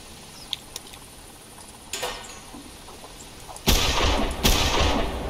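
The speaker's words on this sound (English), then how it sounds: "See if I can shoot twice at one." A 12-gauge Blaser F3 over-and-under shotgun fired at clay targets in theHunter Classic game: a few faint clicks, then a single report, followed by two loud, close booming shots about a second apart.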